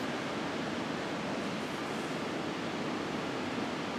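A steady, broad rush of a flooded river outside near Index, Washington, heard from nearby, constant and fairly soft with no other sounds.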